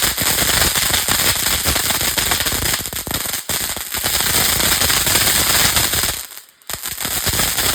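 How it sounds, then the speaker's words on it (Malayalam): Firecrackers crackle and pop in a dense, rapid string of loud bursts at a Vishu celebration, with a short lull before the bursts resume. "ഈ പടക്കം നല്ല രസമായിട്ടുണ്ടായിരുന്നു."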